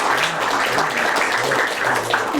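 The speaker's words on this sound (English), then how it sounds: "Can we give her another round of applause?" An audience claps at a political event, producing a dense, continuous wash of applause that stays loud and steady throughout with no voices standing out.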